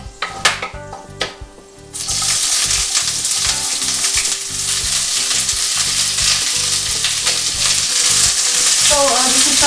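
Freshly sliced onions drop into hot oil with a few clatters, then burst into loud, steady sizzling frying in a pan with green cardamom and cinnamon, close and dense with occasional stirring, no talking.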